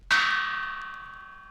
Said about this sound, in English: There are chimes